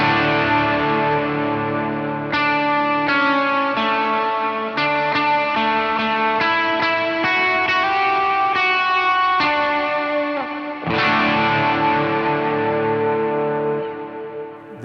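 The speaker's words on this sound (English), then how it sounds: "let's see what that sounds like with my delay and reverb" An electric guitar played through a Chaos Audio Stratus multi-effect pedal with delay and reverb rings out in sustained chords and quick repeated strums, loud and continuous, with long echoing tails fading at the end.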